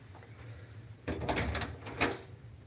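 A house door rattles and clunks open to let a pet outside, with a burst of handling noise and a second knock-like bump shortly after, heard close in a quiet room.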